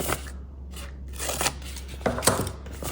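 Scissors snip through paper while a no-sew spring journal is being made, giving a few close, crisp cuts in short bursts with brief pauses between them.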